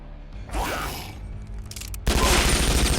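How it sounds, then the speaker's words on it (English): Shotgun blasts in the post-apocalyptic strategy game Skyshine's Bedlam: a sharp crack with a whooshing tail, then a louder, harsher burst of fire toward the end. "Shotgun him."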